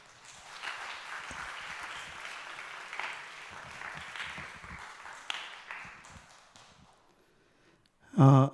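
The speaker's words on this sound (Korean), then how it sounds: "따뜻한 눈빛과 사랑의 박수로 맞아주시면 감사하겠습니다." A congregation at a Korean Sunday youth worship service applauds to welcome a speaker; the clapping is moderate and steady for about seven seconds, then fades into quiet before a brief loud sound at the end.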